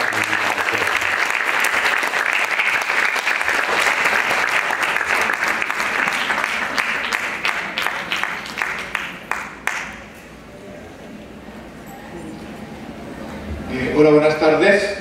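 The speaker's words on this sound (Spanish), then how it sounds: "le demos un fuerte aplauso" An audience at a talk in Marbella claps loudly and steadily for about ten seconds, then the applause thins and dies away, and a single voice begins speaking near the end.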